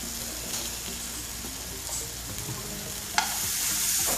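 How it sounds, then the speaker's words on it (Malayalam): Ripe banana slices fry in a pan with a steady low sizzle and soft stirring scrapes, quiet and close, ending with a brief sharper scrape and a rise in hiss. "നന്നായിട്ട് ഫ്രൈ ചെയ്തെടുക്കാം. നമ്മുടെ പഴം ഇവിടെ നന്നായിട്ട് ഫ്രൈ ആയി വന്നിട്ടുണ്ട്."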